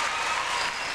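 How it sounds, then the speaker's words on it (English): Resounding applause from a crowd at the 1997 IHSA girls gymnastics state finals, a dense, steady wash of clapping filling the whole moment. "each gymnast they have given resounding applause"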